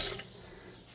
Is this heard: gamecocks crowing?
no